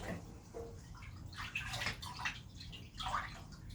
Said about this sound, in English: We'll bring it over to the sink. We're going to rinse it 3 times.